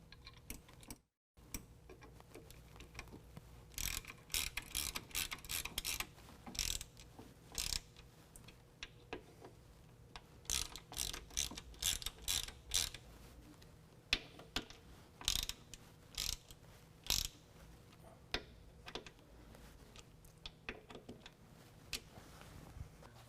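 On a 2020 Ram 2500 a ratchet with a T27 Torx bit snugs down bolts for AMP Research Power Steps. The rapid, close clicking comes in repeated short bursts with brief pauses between them and no talk.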